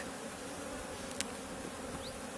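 Honeybees buzz in a steady, close drone during a honey harvest, a continuous hum of many insects with a few brief clicks.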